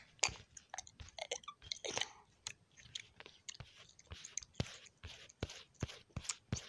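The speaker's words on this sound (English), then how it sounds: "I just keep smacking on my gum." Gum being chewed and smacked close up, a steady run of sharp wet clicks and smacks at an irregular rhythm, with no talking.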